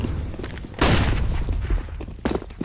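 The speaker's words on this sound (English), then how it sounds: "There it is, the classic flashbang burst up top mid" A flashbang grenade bursts up top mid during a competitive Counter-Strike match: one loud, sudden broadband blast that rings and decays over about a second, followed later by a sharper gunshot-like crack amid background game noise.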